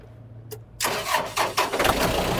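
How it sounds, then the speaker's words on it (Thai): A Yanmar 51-horsepower tractor engine is cranked after a brief click, then catches and settles into a loud, uneven diesel chugging close by. "รถสตาร์ทง่ายนะครับ สตาร์ทชึ่ง"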